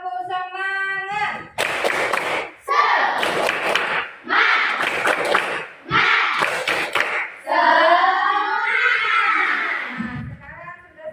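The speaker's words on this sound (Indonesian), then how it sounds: "Marilah kita tepuk semangat." A school class claps out a rhythmic spirit clap in sharp bursts of group hand claps, interleaved with loud chanted voices of the teacher and pupils.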